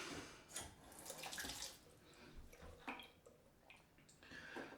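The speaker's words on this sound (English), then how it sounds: "Let's just add a bit more water." Tap water runs in a bathroom sink during wet shaving preparation, faint intermittent splashing and gushing bursts close by, quiet overall.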